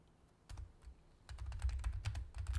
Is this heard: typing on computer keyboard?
yes